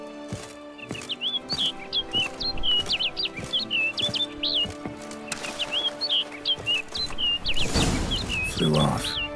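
A bird in The Witcher 3 chirps in repeated short, bright phrases over quiet game ambience, with a rushing burst of wing flapping or wind near the end.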